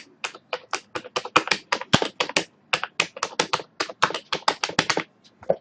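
Close, crisp keystrokes on a computer keyboard tap out a name in quick bursts with brief pauses between them, and nothing else is heard.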